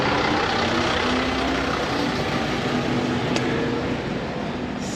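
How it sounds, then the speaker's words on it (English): A big bus moves along a narrow street in Rhodes, Greece, its loud heavy engine rumbling close and steady for several seconds, with faint street noise around it. "pedestrians and big buses like that share this little narrow street too"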